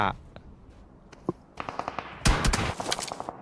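Scattered gunshots crack during a PUBG Mobile esports full match, starting faintly and then coming as a sharper cluster of rapid shots, with a commentator talking over them.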